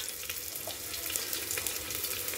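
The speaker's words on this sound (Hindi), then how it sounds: "अब इसे घी में डाल के गोल्डन ब्राउन होने तक इसे हम भून लेंगे।" Sliced onions frying in ghee for a vegetable biryani, giving a steady, close sizzle with faint stirring and scraping, heard alone without talk.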